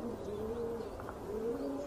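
Soft, low cooing of domestic pigeons carries on in a steady, rolling murmur, fairly near and unaccompanied by talk.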